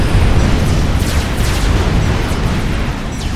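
Loud, dense rumble of explosions from a Tech 3 power generator chain reaction devastating a base in the real-time strategy game Supreme Commander: Forged Alliance, sustained and continuous across the clip with no talk.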